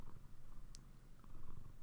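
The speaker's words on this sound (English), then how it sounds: "The people are going to hear you purring" A happy house cat named Dorian purrs softly and close, a low rhythmic rumble pulsing steadily with a brief faint click partway through.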